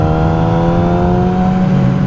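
A 2007 Yamaha R6 sport bike held at full throttle in fourth gear around 4,000 rpm gives a loud, steady, close engine drone with a strong harmonic buzz, running continuously without talk.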